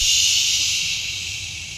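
Carrots go into a hot pan with a loud, steady hiss of sizzling oil that fades slowly over a couple of seconds. The frying is close and continuous, with no talk over it.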